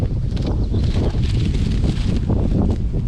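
Steady wind buffets the microphone at a campground with a loud, rough rumble, gusting continuously throughout.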